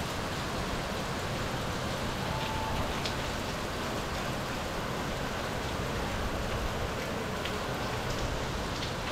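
Rain falls steadily on a dairy farm in summer, a dense, even hiss that holds at the same level throughout with no voices over it.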